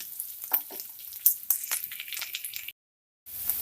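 Onions frying in a pan until brown for Assamese-style urad dal, a close crackling sizzle with stirring scrapes, cut off by a brief silence before the sizzling resumes.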